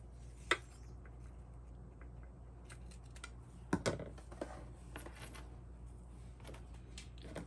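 Scissors snipping near zipper tape while sewing a zippered pouch, a few sharp isolated clicks and cuts amid quiet handling rustle.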